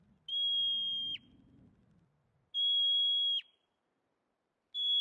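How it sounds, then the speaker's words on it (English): A marmot in Glacier National Park gives piercing high whistled alarm calls, each a sustained shrill note about a second long, repeated three times with pauses between, loud and close over faint low rumble. "Marmots will chirp and whistle at very high frequencies to alert other marmots of nearby dangers"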